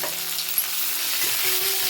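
Tomatoes and garlic sizzle loudly in a hot tadka for Odia santula, a steady close crackle of frying with faint stirring and no talk.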